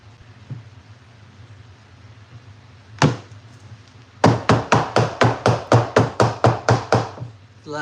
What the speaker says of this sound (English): I have to knock the air bubbles out